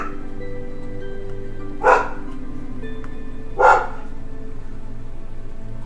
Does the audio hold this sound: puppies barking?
yes